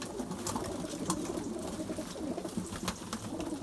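Pigeons coo softly inside a coop, low murmuring calls overlapping in a quiet, steady hum with faint rustles and no talking.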